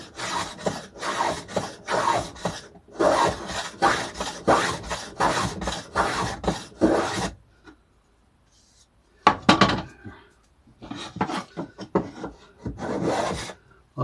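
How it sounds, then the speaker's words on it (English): A hand plane shaves along the grain of old guitar wood in repeated rasping strokes, loud and close, pausing briefly before a few more scraping passes. "A lot easier planing along the grain."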